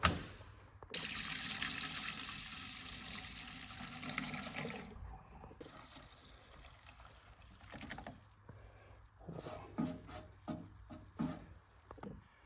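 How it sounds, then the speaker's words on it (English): Water and soap mixing in the tank of a Harbor Freight ultrasonic cleaner: a steady rushing pour for about four seconds, then softer sloshing and swirling with scattered splashes and clunks, close by and without speech. "I'm gonna mix the water and soap"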